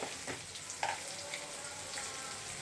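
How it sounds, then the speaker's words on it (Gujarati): Vegetables cut into large chunks sizzle steadily in hot oil in a pan with turmeric and salt added, a continuous soft frying hiss with a few small crackles, no talking. "આને છે ને આપણે સાતળી લેવું એમાં થોડીક હળદર નાખી દેવું"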